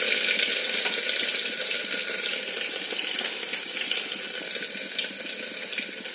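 Ginger garlic paste dropped into hot oil in a frying pan for a home-cooked lunch, giving a steady, fairly quiet sizzle that continues on its own with no talk.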